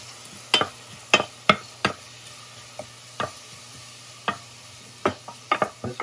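A spoon knocks and scrapes against a cooking pot of lentils and rice as the ingredients are stirred and melted, a dozen or so sharp, irregular clinks over a faint low hum, with no talk.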